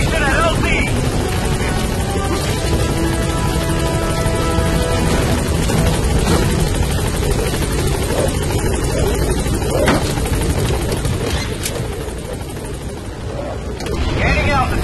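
The B-Quad helicopter from Metal Gear Solid V: The Phantom Pain hovers at a landing zone, its rotor and engine roaring loud and steady throughout, with radio voices faintly under the noise.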